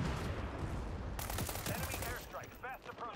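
Gunfire in the video game World War 3: a burst of rapid shots starting about a second in and continuing densely, mixed with game effects, with a voice talking over the last part.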